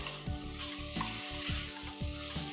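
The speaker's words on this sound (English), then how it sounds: "While it's sauteing, and everything is getting coated in that oil." Goat meat sautéing in oil in a pan for a Moroccan goat stew, with turmeric and mint going in: a steady close sizzle with rhythmic scraping stirs about every half second, and no talking.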